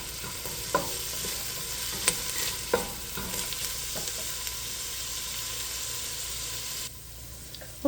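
Mirepoix vegetables with potatoes sizzle in a pan while being stirred constantly, a continuous close frying hiss with occasional scraping knocks from the spoon.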